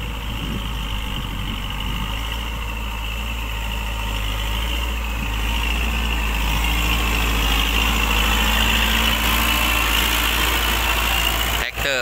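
An old Japanese Kubota rice transplanter idles in a paddy field with a steady low engine drone, loud and close, ending in a short clatter.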